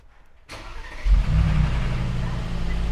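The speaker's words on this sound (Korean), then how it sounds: "굉장한 배기음을 들을 수가 있습니다" A 2022 Mercedes G63 AMG engine cranks and fires, then settles into a loud, deep, rumbling exhaust idle that continues steadily.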